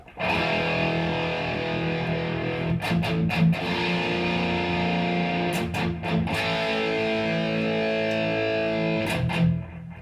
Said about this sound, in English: It's really distorted now